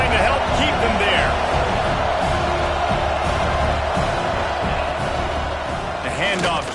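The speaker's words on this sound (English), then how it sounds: "this crowd trying to help keep them there" Stadium crowd at a Notre Dame versus Auburn college football game, a loud sustained roar of cheering throughout, with an announcer talking over it.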